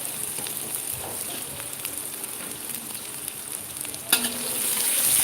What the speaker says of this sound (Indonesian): Nah, bawang bombaynya ditumis.